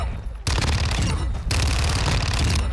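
Fennec 45 submachine gun in Call of Duty firing long, rapid sustained bursts, loud and close, with a brief gap between the strings of shots.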